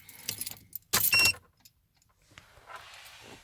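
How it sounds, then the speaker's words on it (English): Keys jangle near the ignition of a Toyota Prado 120, followed by a short burst of clicks and a faint electrical hum as the accessories power on, all close and without talk. "So we'll turn the ignition on"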